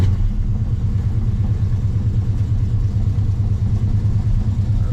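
A 1972 Dodge Charger muscle car engine idles steadily, a deep, loud, continuous rumble with an even low throb that holds without revving throughout.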